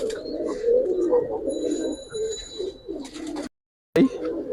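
A giribaz pigeon coos in low, rolling phrases close by, with faint chirps and background noise, broken by a brief silent gap before the cooing resumes.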